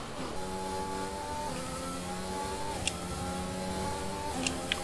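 Formula 1 cars race in the F1 2021 video game, engines holding a steady high-pitched harmonic whine with rising and falling pitch sweeps as they pass, the drone continuous throughout with a couple of brief sharp ticks.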